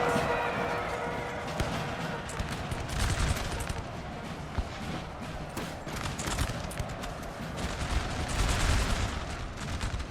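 Massed rifle volleys from a Napoleonic battle in the video game Napoleon Total War: dense, continuous crackling musketry with rolling bursts swelling and fading over ten seconds, heavy and unbroken throughout.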